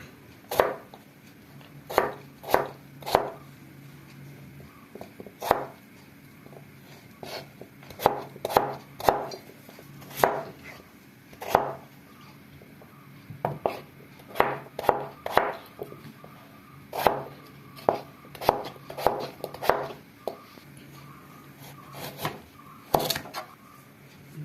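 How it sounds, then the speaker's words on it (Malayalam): A knife chops potato into small pieces on a cutting board. The sharp, close taps come in uneven bursts with short pauses between them, and no one speaks. "ചെറുതായിട്ട് അരിയാം."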